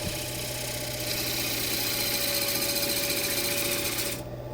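A woodturning lathe runs with a steady mechanical hum while a tool peels at dense elm, a constant grinding scrape that continues near and loud before cutting out abruptly at the end.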